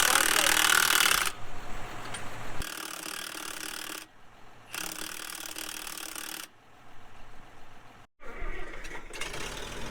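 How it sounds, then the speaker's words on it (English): A tractor engine, just back together after a wheel repair, sputters and clatters in loud mechanical bursts broken by short drops and brief silences, close to the listener. "There we go, first time starting it back up."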